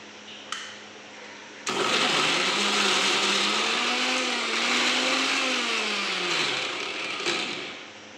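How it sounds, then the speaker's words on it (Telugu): A kitchen mixer grinder whirs loudly as it grinds beetroot, curry leaves and coriander, starting abruptly after a brief click, holding a steady high motor whine whose pitch dips and rises, then cutting off near the end. "సో ఈ 3 మిక్సీలో వేసి మెత్తగా గ్రైండ్ చేసుకోండి"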